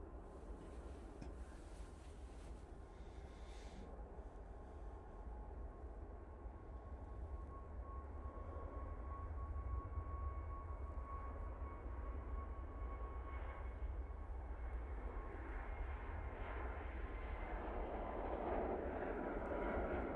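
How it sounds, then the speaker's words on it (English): A TUI 737 MAX 8 airliner takes off at a snowy Manchester Airport, its engines a steady, broad roar that grows louder toward the end and is heard from a distance across the airfield, with no voices. "Next out will be the TUI 737 MAX 8 going off to London."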